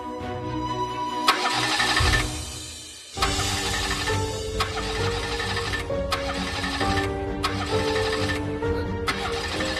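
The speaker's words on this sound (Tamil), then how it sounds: "வண்டி ஆஃப் ஆயிருச்சு சூர்யா" A car engine dies and then cranks and restarts, a steady running hum broken by a short drop and a starter whine before the motor catches again and keeps idling close by.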